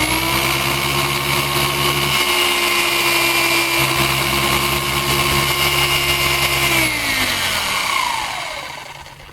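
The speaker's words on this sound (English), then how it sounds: "So at the very end I want it to continue to spin, because that's the nature of DA buffers." A dual action orbital buffer polishing a car whirs at a steady high pitch, then slows and winds down near the end as the pad keeps spinning.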